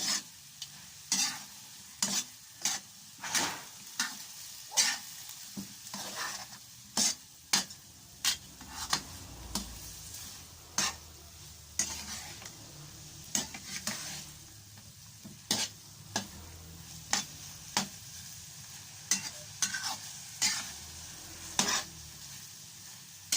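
Broccoli frying in a pan, a soft steady sizzle broken by frequent sharp scrapes and clinks of a utensil stirring and turning it, close and alone with no talk.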